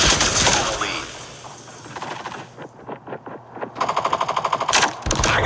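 Automatic gunfire from a Call of Duty Mobile match, with bursts of rapid rattling shots up close, a brief lull, then another rapid string of shots.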